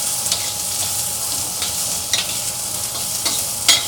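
Food stir-fried in a wok with no wok ring, a steady loud sizzle under sharp scraping strokes of the spatula, close up and without speech.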